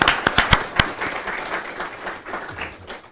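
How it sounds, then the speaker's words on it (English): A round of applause from an audience at a campus dialogue event, opening with several loud, distinct claps up close before settling into steady, dense clapping that gradually tapers off. "I think that deserves a round of applause."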